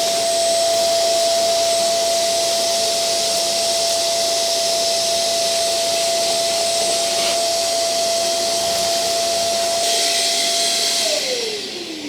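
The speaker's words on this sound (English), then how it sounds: "you got to take a headlight out to hoover it out" A vacuum cleaner hoovers out the engine bay of a Nissan 300ZX with a headlight removed, running as a loud, steady, close whine throughout, then dropping in pitch as it winds down at the end.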